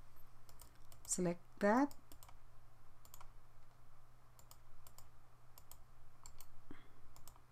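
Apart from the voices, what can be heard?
typing on a computer keyboard in AutoCAD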